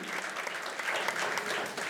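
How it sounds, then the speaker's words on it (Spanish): A church congregation at a Sunday service breaks into continuous applause, a soft, even wash of many hands clapping at a moderate distance. "¿Puedo dar un aplauso, iglesia?"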